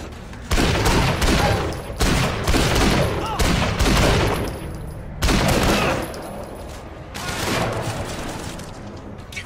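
Gunfire in the video game Sleeping Dogs during a slow-motion vault shoot move, loud bursts of rapid shots in several rolling volleys with short pauses between them, with someone talking over it.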